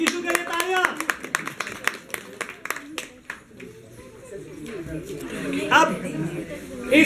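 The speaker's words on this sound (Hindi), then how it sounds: "टीम ए को किसको के लिए तालियां" A burst of hand clapping for a team at a village quiz competition, sharp claps close up for about three seconds, then fading into murmuring chatter and voices.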